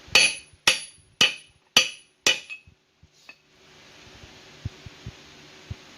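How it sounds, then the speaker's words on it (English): Five sharp, ringing metal hammer strikes at a steady pace, driving a front wheel bearing into a 1999 Ford Ranger 2WD, then quieter faint taps and clicks over a low hum. "Get the bigger hammer, make this a little bit easier on us."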